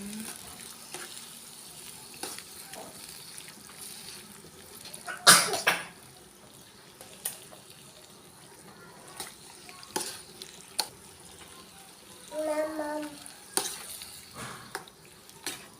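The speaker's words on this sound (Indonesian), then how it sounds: "Saya aduk-aduk dulu ya teman-teman" Food fries quietly in a pan while being stirred, a low sizzle with occasional scrapes and clanks; a cough or throat clearing and a brief voice break in partway through.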